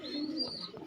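Pigeons, including racing pigeons kept in a loft collection, give a soft, low cooing that carries steadily through the short moment, close and moderately loud with no talking over it.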